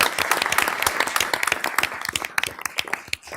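An audience at a Wright County board meeting applauds a youth team with dense, lively clapping that thins toward the end into scattered individual claps.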